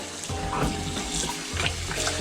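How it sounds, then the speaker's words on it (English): Ice-cold water pours steadily over crappie fillets, a continuous close splashing and trickling like a running tap, with no other sounds over it. "it's ice cold water that I'm putting over it"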